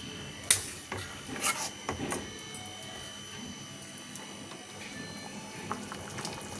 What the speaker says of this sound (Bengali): দেখো বন্ধুরা পনির আলু কিন্তু ফুটে গেছে